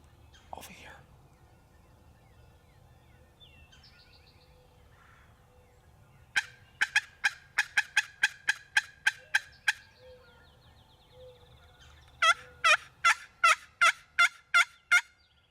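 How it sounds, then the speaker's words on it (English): Wild turkeys gobble on the opening day of turkey season in Indiana, two rapid rattling bursts ringing out clearly at moderate distance across quiet woods, with faint whispering before them. "I think I heard a gobble across over here."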